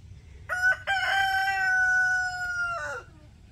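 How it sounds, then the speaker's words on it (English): A backyard rooster lets out one clear, loud cock-a-doodle-doo, a short broken opening followed by a long sustained call that trails off, with faint quiet background. "Give you guys a peek at my chickens over there."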